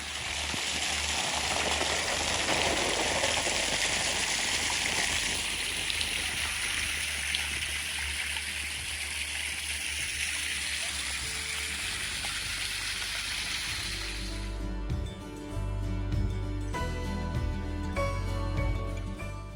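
A garden hose runs steadily, pouring water onto the ground of a backyard ice rink being filled, a continuous splashing hiss that stops abruptly partway through, leaving quieter ambient sound.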